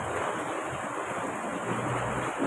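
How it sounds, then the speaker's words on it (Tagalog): Steady rain falling, a dense continuous hiss with no pauses, close and fairly loud, with no talking. "Ayan, umuulan pa rin, no?"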